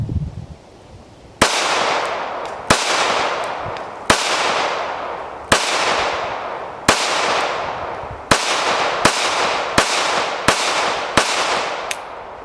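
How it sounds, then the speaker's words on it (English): A Smith & Wesson Performance Center Bodyguard 2.0 handgun fires about ten sharp, loud shots at close range, evenly spaced roughly a second apart, each crack ringing out briefly before the next. No one speaks. "that is such an easy shooting, very easy recoiling handgun"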